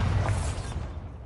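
The Bombarda explosion spell in the video game Hogwarts Legacy gives a brief, dull, rumbling blast that decays over about a second, moderately quiet and alone.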